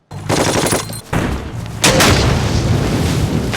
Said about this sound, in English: These explosions are immense.